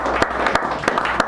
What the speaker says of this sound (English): Give this man a really good round of applause.